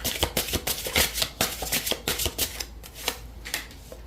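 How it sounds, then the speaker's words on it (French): A deck of oracle cards is shuffled briskly and drawn, with rapid papery riffles and crisp slaps in a busy rhythm that thins out toward the end, close and fairly loud, no one speaking. "je vais tirer des cartes"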